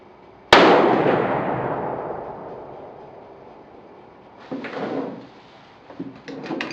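A single sharp report from a Browning BLR lever-action rifle in .308 Winchester, fired during a scope test, rings out loud and close, then decays into a long fading echo, with faint handling noises afterward.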